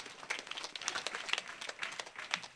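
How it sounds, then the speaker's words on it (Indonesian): Scattered clapping from a modest audience at a junior and senior high school graduation ceremony, with loose, uneven individual claps rather than a full roar, fairly quiet and brief. "Tepuk tangan buat anak-anak kita."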